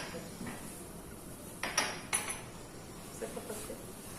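Soft clinks and scrapes of a utensil against a metal pot while stirring Arabaşı soup slowly, a few louder knocks, over quiet kitchen background.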